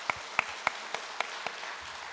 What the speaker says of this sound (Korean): 귀한 찬양해 주신 일남선교회 격려의 박수 올려드리겠습니다